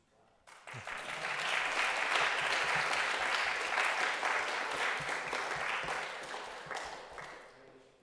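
Audience applause after a PhD thesis defense on realtime state estimation for contact manipulation, a room of people clapping steadily and warmly for several seconds before it tapers off.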